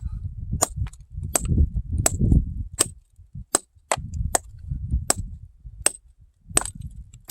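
Sharp, loud cracks ring out about ten times at irregular intervals, each a hard hammer strike on gold-vein rock, with low rumbling and scraping between blows.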